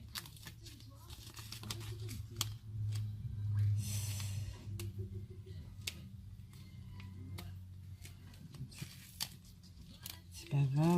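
Short rasping bursts of adhesive tape being pulled and torn, with a steady voice speaking close by over most of it.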